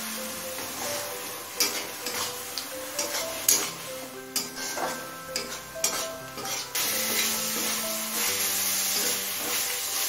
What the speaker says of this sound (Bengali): এবারে সমস্ত মশলা খুব ভালো করে কষিয়ে নেব।